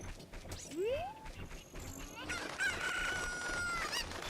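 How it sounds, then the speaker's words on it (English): Chicken from The Legend of Zelda: Ocarina of Time, a rising squawk and clucking amid rising and gliding game tones, moderately loud with no talk. "Grab a chicken."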